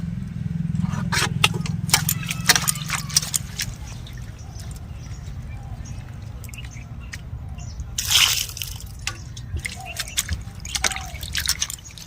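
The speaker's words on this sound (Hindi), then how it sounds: "यहाँ पर हम धनिया को साफ कर लेते हैं इस तरह से पानी में" Coriander leaves are swished and rinsed in water, with close dripping, trickling and sloshing, plus occasional brief rustling bursts; no one speaks.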